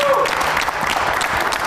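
Studio audience applause on a Kyrgyz television show, a short dense burst of clapping, close and steady.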